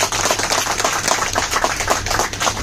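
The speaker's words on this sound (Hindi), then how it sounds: "सबसे पहले हमारे शिल्पा बहन, धारा मैडम और हमारे जयदेव भाई के लिए भी शुमार ताली हो जाए।" Close, loud clapping from an audience at a health product gathering in Ahmedabad, individual hand claps distinct in a brisk, slightly uneven rhythm throughout the short burst, with no speech.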